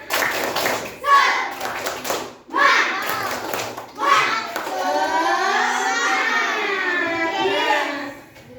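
A class of children performs the tepuk semangat spirit clap, bursts of rhythmic group clapping mixed with loud chanting and shouting voices, ending in sustained excited singing-like calls.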